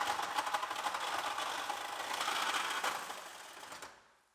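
Fox body Mustang GT radiator support being cut with a power tool, a loud rapid buzzing chatter that runs steadily for several seconds before winding down and stopping.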